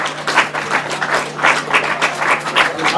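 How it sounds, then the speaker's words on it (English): Applause from a grasstrack racing crowd for the podium finishers of a 500cc upright race, a steady dense clapping that swells and dips in waves, loud and close, with no voices over it. "Let's give them a big round of applause."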